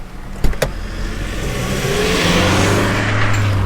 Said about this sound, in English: More car noise.